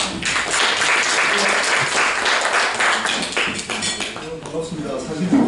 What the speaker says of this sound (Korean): 우리 손혜원 교수님 나오실 때 큰 박수로 맞아주시기 바랍니다.